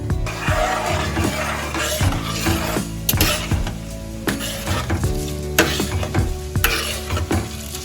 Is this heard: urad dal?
yes